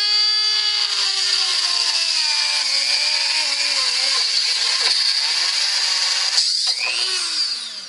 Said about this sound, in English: I'm going to saw that off now with a cutting bit on my Dremel